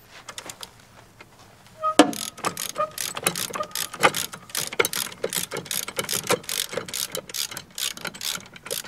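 Rapid clicking of a ratchet loosening a nut during brake repair on a Valmet 602 tractor, sharp metallic ticks in quick irregular bursts, close and loud after a quieter start, with no talk.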